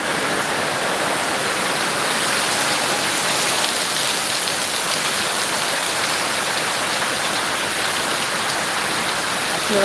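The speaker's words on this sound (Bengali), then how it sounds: "বিকালের বৃষ্টি অনেক মজার বৃষ্টি" Heavy afternoon rain pouring at a central mosque in Gazipur city, a dense, even roar of downpour on surfaces that stays loud and unbroken throughout.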